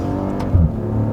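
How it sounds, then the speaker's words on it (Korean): A Maserati with a six-cylinder engine revs briefly, a single swelling exhaust blip rising over a steady idle rumble, close and alone. "그래서 배기음을 좀 또 들어보면"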